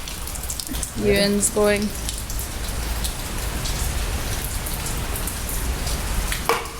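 Heavy rain pours down during a stormy day in Plovdiv, Bulgaria, a dense, steady hiss of drops on surfaces, briefly under a voice near the start.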